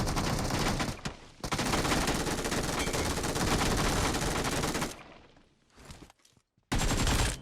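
Bursts of loud, close gunfire during a PUBG Mobile match, shotgun fire in the fight, forming long dense volleys with brief gaps and a sharp final burst, with no speech over it.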